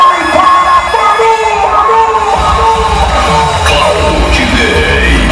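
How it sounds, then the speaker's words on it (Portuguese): Rodeo arena crowd at a bull-riding event yells and cheers loudly, a dense roar of many voices with shouts and whoops rising over it, continuous and close. "Cadê o grito? Pode aplaudir."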